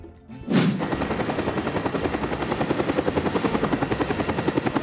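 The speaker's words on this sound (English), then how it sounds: "Police helicopter." A quick burst gives way to a police helicopter's rapid rotor chop, pulsing evenly and growing slightly stronger as it continues.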